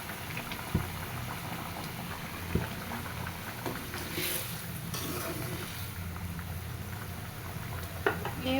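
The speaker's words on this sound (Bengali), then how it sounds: "ঝোলটা ফুটে গেছে" Egg curry gravy boils in a pot with a steady close bubbling burble and a few soft clinks over it, with no talk.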